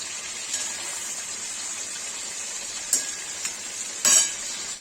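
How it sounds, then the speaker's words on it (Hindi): Paneer frying in a pan for Kashmiri saag gives a steady, bright sizzle throughout, broken by a few sharper spattering pops near the end. "आधा पनीर फ्राई करके पानी में डाल दिया है और आधा चढ़ा दिया है"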